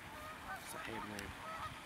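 A goose honks a few times in short, faint calls outdoors on a disc golf course.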